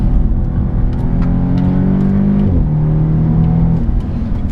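A 2015 Audi S3 drives and accelerates, its engine note climbing loud and close, then dropping sharply as it shifts gear and pulling steadily again, with no talk over it.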